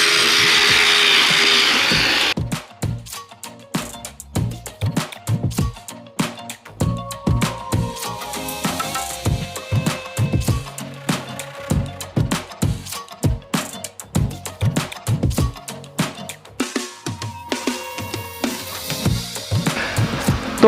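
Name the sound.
battery-operated brush cutter trimmer running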